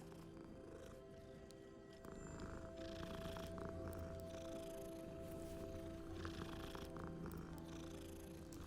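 A cat purrs in the video game Hogwarts Legacy, a faint continuous rumbling drone over quiet ambient game background, steady throughout with no talk.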